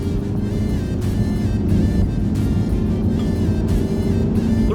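A Camaro SS 1LE V8 engine with a K&N intake rumbles loudly and steadily with a deep throaty tone, revving briefly in a few surges, with no voices.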